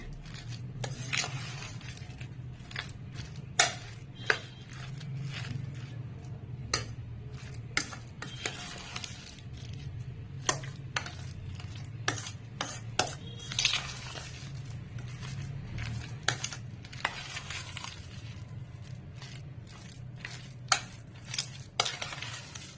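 Spoon quietly scraping and stirring chili powder, cumin powder and other spices together for pani puri, soft intermittent taps and clinks over a low steady background hum.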